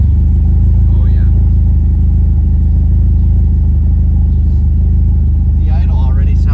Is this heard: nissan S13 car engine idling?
yes